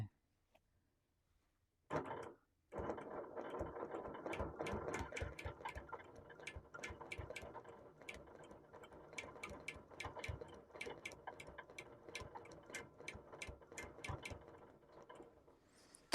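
Sewing machine stitching around a square on a quilt, a quiet pause then a rapid, steady train of mechanical ticks close by, running continuously after a brief start-stop.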